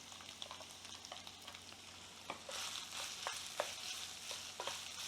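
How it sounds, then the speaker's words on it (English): Ground meat and diced onion brown in a frying pan, with a constant soft sizzle and occasional scraping stirs, close and fairly quiet. "All the liquid has cooked off and the meat is starting to brown."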